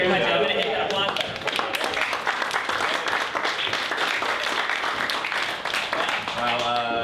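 Canned applause sound effect triggered from a button at a live improvised comedy podcast show, a dense, loud, continuous wash of clapping and cheering lasting several seconds.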